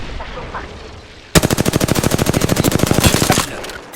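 A rapid burst of automatic gunfire in Apex Legends, loud and close, with about twenty evenly spaced shots over two seconds, following a quieter stretch of game ambience.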